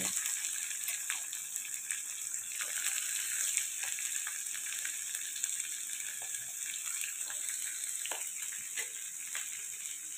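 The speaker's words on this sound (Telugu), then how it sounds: "ఇలా వేగిన దాంట్లో మనం ముందుగా తరిగిన పచ్చిమిరపకాయలు, ఉల్లిపాయలు," Chopped green chillies and onions sizzle in hot frying tempering, a steady bright hiss of frying with small crackles and pops throughout, fairly close and continuous.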